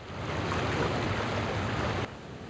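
High surf at Ocean Beach Pier during a San Diego storm, a loud broad rushing wash of breaking waves that cuts off abruptly near the end.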